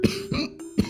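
A person coughs hard three times in close succession, loud and near, with no talking.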